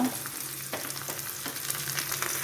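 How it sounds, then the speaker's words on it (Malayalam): Curry leaves fry in hot oil for a Kerala-style sardine curry, giving a steady broadband sizzle throughout with a few soft stirring clicks, close and alone with no talking. "അതൊന്ന് ചൂടായിട്ടുണ്ട് ഇനി നമുക്ക് കറിവേപ്പില"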